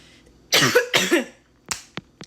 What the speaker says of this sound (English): That cough was beating me.